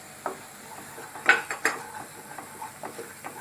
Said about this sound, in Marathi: आता हे 3-4 मिनिटं चांगलं परतले मी वाटण.